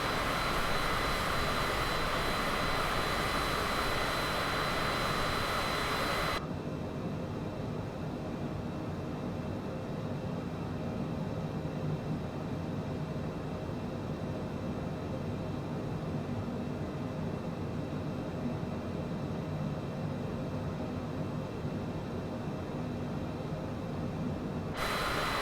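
An airliner flies through Hurricane Ida in Microsoft Flight Simulator on the Cancun to Tampa route. A loud steady engine and wind roar drops abruptly after a few seconds to a quieter, sustained cabin drone.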